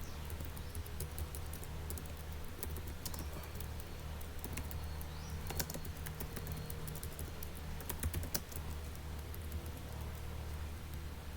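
Computer keyboard typing code, a steady patter of fast light key clicks over a constant low background hum, with occasional sharper keystrokes, continuous throughout and no voice.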